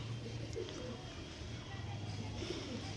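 Pure-bred pigeons kept in a loft coo softly in low repeated phrases, faint and close against a quiet background.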